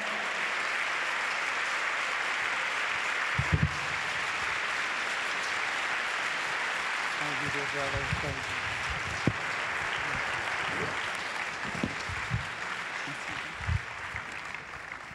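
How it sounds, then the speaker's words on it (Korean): An audience at an evening missions conference gives warm, sustained applause, a dense steady patter with a few louder claps standing out. "뜨겁게 박수하시면서 여러분 말씀에 크게 응원해 주시기 바랍니다."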